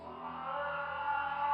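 A pitched-down cat voice passes through a regular resonator tuned to E as a ghostly, ringing sustained tone with clear harmonic lines that swells gradually louder toward the end, no talking.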